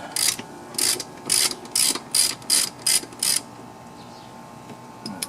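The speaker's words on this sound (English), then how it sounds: "remember it's just that side of your ratchet, 3/8" A 3/8 ratchet loosening the spark plugs on a lawn mower during a tune-up clicks in eight quick, close bursts, steady and rhythmic, then stops, leaving a quiet background.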